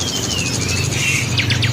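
A kacer (magpie robin) songbird sings nearby in a short bright phrase, ending in a quick run of rising chirps over a steady low hum.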